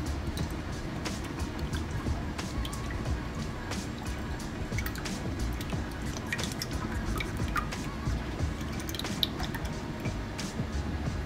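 Cream and milk pour into a pot sitting on a gas burner, a steady low liquid gurgle and trickle with small drips, moderately quiet and continuous throughout.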